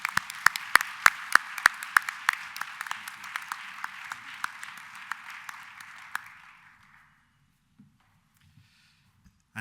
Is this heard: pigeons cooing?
no